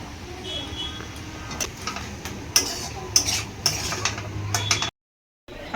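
Banana flower and jackfruit seeds are stirred together in a pan for a Bengali mochar ghonto, with a low sizzle beneath repeated spatula scrapes and clinks, ending abruptly in silence.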